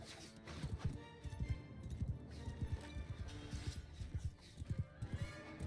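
Rhythmic horse hoofbeats in the video game Mount & Blade II: Bannerlord clip-clop at a steady trot, close and clear, with a horse's whinny mixed in.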